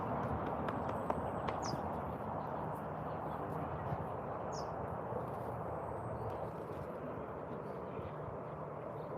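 A horse's hooves clip-clopping on the ground, quiet and somewhat distant under a broad background murmur, with faint bird chirps now and then.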